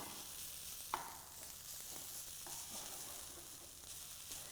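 Coconut paste and grated coconut sizzling in coconut oil for a dry mushroom fry, a soft steady hiss with a few sharp scraping stirs, no talking.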